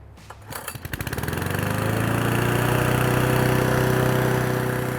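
Lawn mower engine at a landscaping job cutting back Asian jasmine, pull-started with the choke: a few sputtering pops build quickly into a loud, steady running drone close by.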